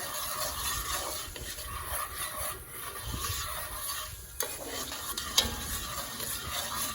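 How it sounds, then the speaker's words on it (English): A metal scraper stirs tomato paste through vegetables in a pot for braised short ribs, giving a steady close scraping and sizzling with occasional light clinks over about seven seconds. "get that tomato paste all stirred around in there, coating those vegetables"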